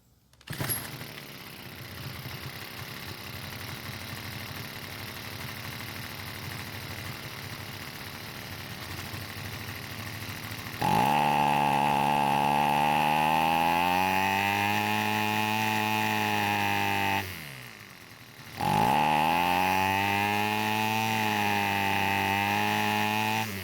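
Stihl string trimmer engine running with its air filter removed, a steady small two-stroke drone that jumps louder and higher when revved, dips briefly, then revs up again, heard alone and close.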